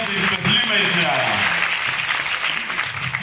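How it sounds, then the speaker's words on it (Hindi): An audience claps at a direct-selling company gathering in India; a voice speaks over the first part before the clapping carries on alone, moderately loud and steady. "उनके लिए एक ताली बजा दीजिए।"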